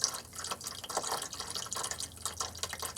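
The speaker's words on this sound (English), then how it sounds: "You got to pretty much wait till you get out to the final drip" Coolant from a 2003 Ford F-150 5.4L Triton drips into a catch pan during water pump removal, a faint, irregular patter of small drops close by in a quiet space.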